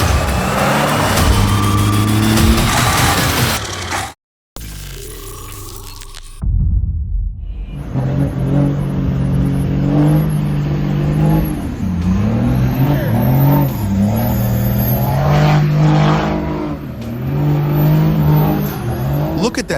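Loud modified car exhausts rev hard, with deep throaty roars rising and falling in repeated bursts, a brief cut to silence near the start, then sustained aggressive revving close by.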